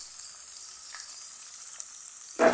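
Beans and carrots sauté in a pan for rice sevai, a steady faint hiss of frying that ends in a louder, closer burst of sizzle.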